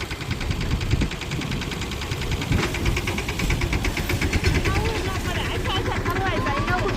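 A loaded farm tractor's engine chugs steadily up close with a rhythmic knocking pulse and heavy low rumble, running unbroken throughout.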